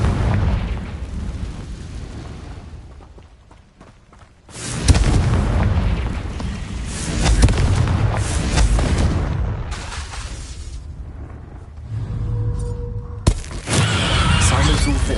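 Confringo explosion spell in the Hogwarts Legacy video game: a sudden loud booming blast erupts about a third of the way in, followed by rumbling combat noise and a second sharp burst near the end.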